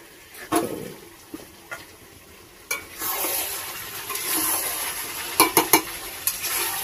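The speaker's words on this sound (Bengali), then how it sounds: "এবারে আমি এই আলু আর মাংস আরো কিছুক্ষণ ভালো করে কষিয়ে নেব।" Chicken and potatoes being stir-fried in a pan in a village kitchen, faint sizzling under sporadic scrapes and clatters of a spatula, a burst of quick knocks near the end.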